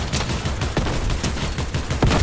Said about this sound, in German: KI schießt sich jetzt ab.